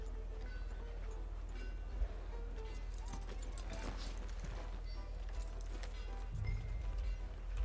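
Horse hooves clip-clop at a steady walking rhythm in the Western open-world game Red Dead Redemption 2, fairly faint under ongoing game ambience and someone talking over it.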